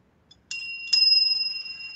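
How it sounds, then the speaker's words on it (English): Two bright rings of a hotel front-desk bell, the second struck just after the first, each leaving a clear sustained metallic tone that lingers and slowly fades over a quiet background. "Well, that was the double bell."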